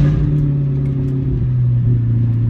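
A sports car's engine idles and revs close by, a loud, throbbing low growl with a steady rumble that rises slightly at the end, with no talking.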